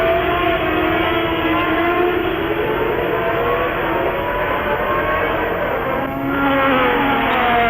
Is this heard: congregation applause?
no